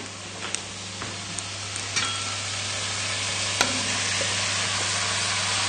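Seasoned chicken sizzles in a casserole pan with vegetables, a constant hissing fry under a low hum, with a few sharp clicks and scrapes of a utensil, close and steady, no talking.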